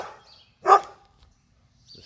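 A dog gives a single short, fairly loud bark near a backyard garden fence, with quiet stretches before and after.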